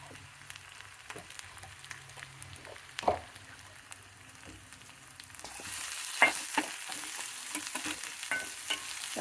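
Turmeric and coriander powder frying in a pan for a potato dish, a soft sizzle with stirring scrapes that swells louder and brighter partway through, close by, no talking.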